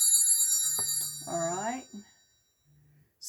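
A mobile phone rings with a bright, sustained electronic tone while someone briefly talks over it, the ring fading after a second as the voice continues near the mic.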